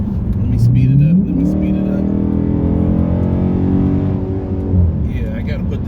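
A Chrysler 300 SRT8 engine revs up and accelerates loudly on a road, its pitch climbing steadily, close by with road noise throughout.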